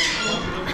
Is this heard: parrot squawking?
yes